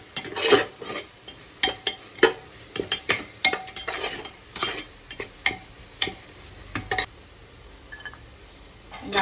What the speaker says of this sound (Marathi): छान परतून घेते.